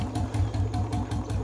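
A motorcycle engine idles steadily while warming up after being started, giving a close, continuous low rumble with an even pulsing throb.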